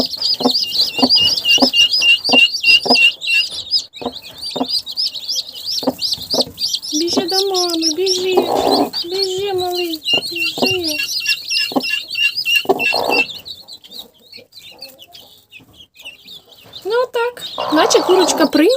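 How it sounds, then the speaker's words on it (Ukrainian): Crested chicks peep in rapid high chirps while a broody hen gives low, repeated clucks close by; someone talks softly among the birds at times. "тут чубатенькі такі гарні курчатка."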